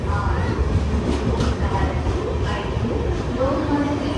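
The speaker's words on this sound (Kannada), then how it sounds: "ಎಂತ ಉದ್ದ ಟ್ರೈನ್ ಮಾರೆ ಇದು ಆಗದಿಂದ ಹೋಗ್ತಾನೇ ಉಂಟು" A long train rolls past nearby with continuous rumbling and rhythmic clatter of wheels on rails, steady and loud, with some talk mixed in.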